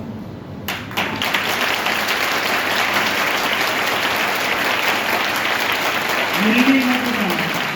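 Church congregation applauding loudly, dense continuous clapping that swells near the end while a voice speaks over it.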